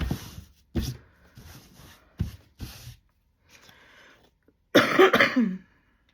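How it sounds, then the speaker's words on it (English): Several sharp, close coughs come in a quick series, then fade into faint rustling before a final harsh throat-clearing cough. "And again, I apologize for the coughing."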